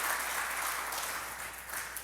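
A church congregation claps during a sermon, a continuous broad rush of many hands at moderate level that holds steady and fades slightly toward the end, with no voices on top.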